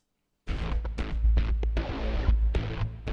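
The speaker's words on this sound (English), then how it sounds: "I'm using from Oblivion a pedal sound, and it's sounding like this" Heavy metal guitar pedal tone from the Oblivion sample library, playing dense, loud distorted chugs and hits with sharp accents over a sustained low-end roar after a brief silence.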